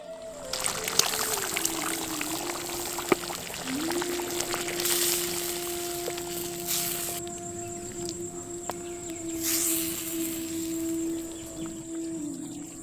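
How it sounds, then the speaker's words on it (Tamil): Dissolved ground coconut being poured into a simmering Masi karuvadu dried fish curry, a soft, steady liquid pour with faint splashing, set against a quiet background hum and tone. "இப்போ நம்ம கரைச்சி வச்சிருந்த தேங்காயவும் குழம்பு கூடவே சேர்த்துக்கலாம்"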